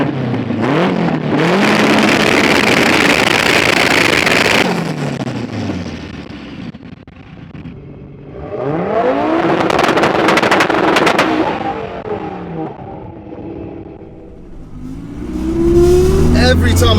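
A 900HP Audi Quattro and a 770HP AWD Honda Integra race car revving hard in turn, loud close engine roars rising and falling in long bursts with wind buffeting.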